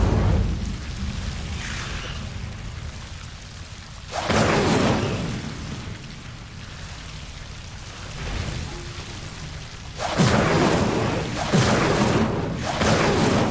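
Incendio fire spell casts from the video game Hogwarts Legacy: two loud, crackling whooshes of flame with a softer burst between them, set against a steady hissing rain-like ambience.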